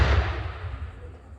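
A real cannon fired on the 4th of July at Fort Pulaski, Georgia: a heavy blast at the very start, its deep rumble rolling away and fading over about a second.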